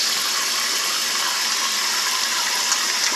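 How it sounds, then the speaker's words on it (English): Steady rush of tap water running into a sink during face washing, a continuous even hiss close by with no talking over it. "now I'm just gonna wash my face"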